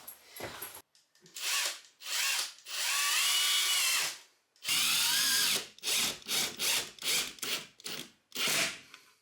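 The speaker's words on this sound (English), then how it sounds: "I'm screwing a 1/4 inch thick, really lightweight board into my frame with these 1 5/8" Power driver sinking small gold trim head screws through a thin, lightweight quarter-inch board into wall framing inside a school bus conversion; repeated close, loud whirring bursts of varying length, some long and sustained, others short and quick, with brief pauses between.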